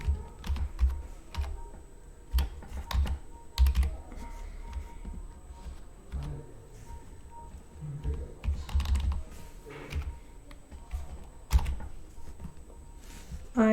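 Computer keyboard keys tapped in irregular bursts while numeric values are entered into a C program, close and fairly quiet, with short pauses between clusters of keystrokes.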